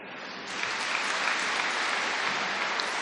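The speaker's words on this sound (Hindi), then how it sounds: "ताली बजा दो" A very large spiritual gathering of thousands breaks into applause, a broad, even wash of clapping that rises within the first half second and holds steady, distant and diffuse, with no voices.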